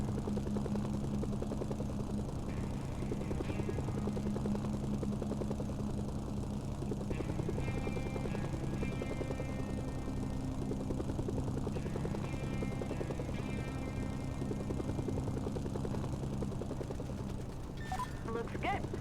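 Helicopter rotor drone in the Mercenaries 2 video game on PS2, a steady loud continuous whirring that fills the clip under game voices and effects.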